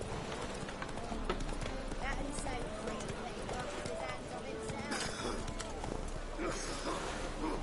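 Roach, a horse in The Witcher 3, gallops in a steady clip-clop of hooves running throughout, with game sounds and a voice mixed in over a continuous background.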